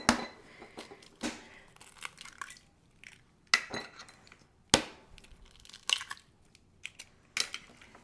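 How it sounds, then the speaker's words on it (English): Three eggs are cracked for a pumpkin pie spice dump cake, each one a sharp crack against a hard edge followed by softer shell crinkles and taps, spaced out across a quiet kitchen with no talking. "the first thing we're going to do is we're going to crack 3 eggs."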